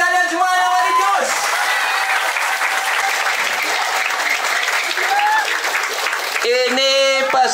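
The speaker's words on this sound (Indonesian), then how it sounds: "tepuk tangan buat kalian semua yang lagi jos." Loud, sustained applause from English camp participants at a villa, steady clapping throughout with a voice speaking over the start and end.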